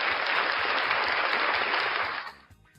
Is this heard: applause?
yes